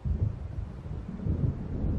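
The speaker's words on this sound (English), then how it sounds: "It seems there's a storm coming." Low thunder rumbling from an approaching storm in Alan Wake, a deep, fairly loud rolling roar with no talk, steady for two seconds with slight swells.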